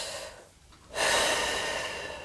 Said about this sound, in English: Release gently by blowing it slowly through your mouth.